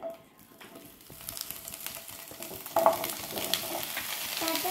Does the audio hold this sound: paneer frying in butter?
yes